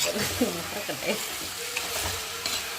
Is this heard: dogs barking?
no